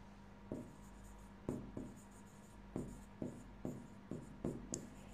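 Pen or chalk strokes on a board or paper during an accounting class, a regular series of short, quiet scratching strokes repeating about every half second.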